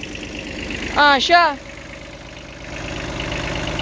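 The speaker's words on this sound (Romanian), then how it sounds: "Tractorașul toarce frumos, ca nou." A Kubota 16 hp small Japanese tractor engine runs at a steady low idle-like rumble while plowing a field, with a brief spoken word near the start over the engine.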